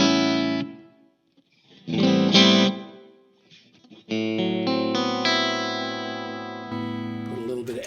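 Electric guitar chords through a Dual Rectifier amp ring out with heavy delay and reverb, each strum trailing into long echoing sustain, separated by short gaps.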